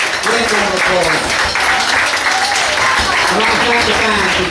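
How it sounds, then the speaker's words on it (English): A pub crowd applauds after a live band set in Dunstable, steady close clapping that keeps going the whole time, with a voice speaking loudly over the applause. "Great round of applause."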